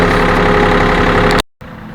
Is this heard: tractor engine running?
yes